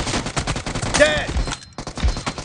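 Rapid bursts of gunfire in the mobile shooter PUBG Mobile crackle in quick clusters, dense and fairly loud, with game effects mixed in and a voice speaking briefly.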